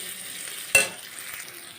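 Turmeric goes into onions frying in oil, making a single sharp sizzling burst with a clatter of stirring, then a soft steady fry continues close by without talking.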